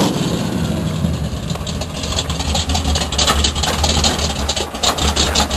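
A freshly cranked engine rumbles loudly and continuously up close, a rough, grinding low roar with a rasping, irregular texture that holds steady throughout.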